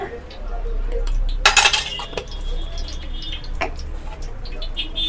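A utensil stirs beaten egg seasoned with salt and pepper in a bowl for a Tamil Nadu-style fish cutlet, giving a few light clinks and one sharper scraping clatter over quiet background noise.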